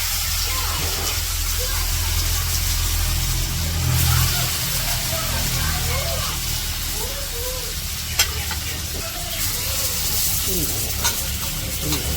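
Fish frying in oil in a wok over a village cooking fire, a continuous close sizzle with stirring noises, a low rumble underneath and a couple of sharp clinks.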